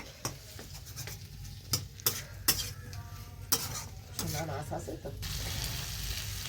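Chopped tomatoes go into a pan of spiced masala for a Bengali greens dish, with sharp metal spoon clinks and scrapes over a soft, steady sizzle that swells near the end; a voice speaks briefly underneath.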